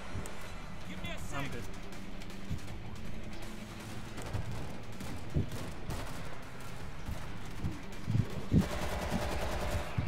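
SMG bursts from the zombie shooter World War Z: rapid repeated shots with a few sharp louder cracks, running under steady talking among players over a busy game backdrop.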